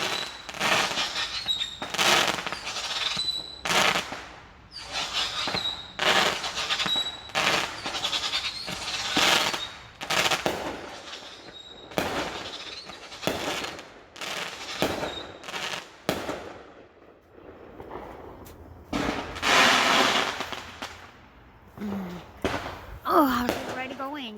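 Fireworks burst in a long series of sharp, loud bangs like gunshots, some in quick clusters and others spaced apart, with brief lulls between volleys and a voice talking near the end.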